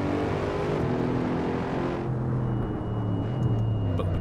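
Engine of a Mercedes-Benz SLS AMG in the Assetto Corsa racing game, a sustained tonal drone that drops in pitch partway through, as if shifting gear on the paddles, then holds on steadily.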